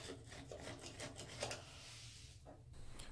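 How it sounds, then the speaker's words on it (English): A chisel held at a low angle scrapes dried grout off smooth tile in faint, repeated rasping strokes that stay quiet and close throughout. "Hold the chisel approximately 30 degree angle, apply slight downward pressure and scrape away."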